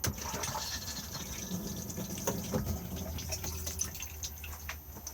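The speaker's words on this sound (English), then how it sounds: "Open to the cassette just here on the lever, and then blue button to flush." A Thetford cassette toilet in an Auto-Sleeper Symbol Plus motorhome flushes, its water running steadily into the bowl at close range for several seconds without any speech.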